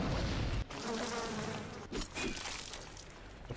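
A swarm of bees buzzes in the BioShock video game, a dense continuous drone that stays loud and close throughout, with brief dips and flutters.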